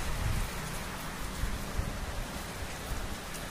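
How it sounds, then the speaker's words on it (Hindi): Heavy rain pours outside a window, a dense, steady wash of drops with occasional heavier thuds, loud and unbroken throughout. "देखो देखो क्या बारिश हो रही है ना"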